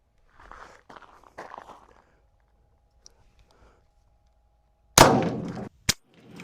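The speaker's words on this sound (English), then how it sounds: "try this one more time with the ARX Ruger ammo. Last shot on the camera" A handgun firing Ruger ARX ammunition into a Cybertruck door gives one sharp, loud close report with a brief ringing tail, then a second short crack follows. Soft rustling and footsteps come before the shot.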